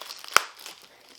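A blade slicing through tough packing tape on a cardboard box, one sharp crackling tear at close range followed by faint rustling.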